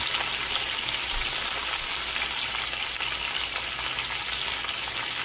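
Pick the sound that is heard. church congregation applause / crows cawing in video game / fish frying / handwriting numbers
fish frying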